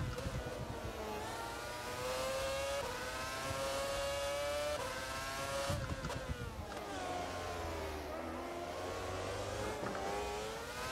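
Race car lapping the Bahrain Grand Prix circuit in the rFactor sim racing game, heard onboard: the engine climbs through high revs, drops briefly at gear changes, then winds up again in a continuous, loud, droning whine.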